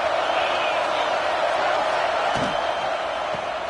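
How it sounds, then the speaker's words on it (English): Stadium crowd in a college football video game roaring steadily throughout, a dense, constant wash of cheering noise with a couple of brief thumps near the end. "This crowd knows when to bring it."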